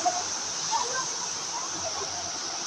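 Busay Falls waterfall in Babatngon, Leyte, a steady broadband rush of falling water, moderately loud and continuous, with faint voices in the background.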